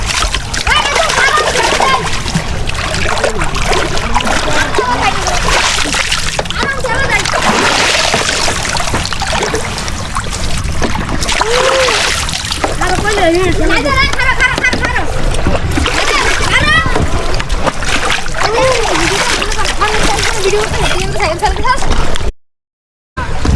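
Rainwater splashes and sloshes as a motorcycle is washed with a brush on a wet road, with irregular bursts of splatter throughout, while people talk over it at close range.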